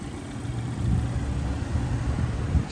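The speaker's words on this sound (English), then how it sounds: "Watch me hit this cold start, man." A 2022 Dodge Challenger (Hellcat or Scat Pack) V8 with dual exhaust idles after a cold start, a steady deep low rumble that stays close and fairly loud throughout.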